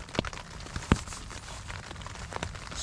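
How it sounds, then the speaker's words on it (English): Rain falls steadily at a winter lakeside wild camp at night, a soft continuous patter with a few louder drops striking a surface nearby, no voices. "It's raining again."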